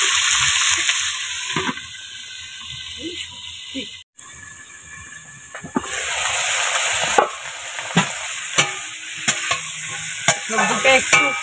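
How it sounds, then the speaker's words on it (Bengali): Salted vegetables, including carrot, fry in an oiled kadai while a spoon scrapes and stirs them. A steady sizzle is broken by a string of sharp, regular stirring strokes that grow louder and more frequent toward the end. "এবার সবজিগুলোকে একটু ভেজে নেব"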